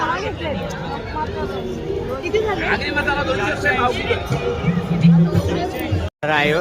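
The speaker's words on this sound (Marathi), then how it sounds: "आज रविवार असल्यामुळे खूप गर्दी आहे" Busy Sunday crowd at the Malvani festival in Shivai Nagar, Thane, a continuous loud babble of overlapping voices and stall chatter, nearby and unbroken.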